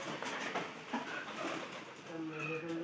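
Pigeons cooing in a loft with fresh straw, soft repeated coos up close while someone talks over them.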